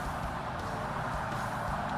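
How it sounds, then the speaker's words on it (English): A Lotus Exige racing car in the Forza Motorsport video game, its engine giving a steady, moderately loud hum that holds throughout without a break. "I can hear the car a little bit"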